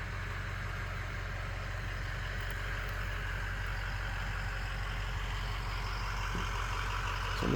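A vehicle passes on the road near an old cable-blade bulldozer, a low steady engine rumble that stays fairly faint and swells slightly at the end.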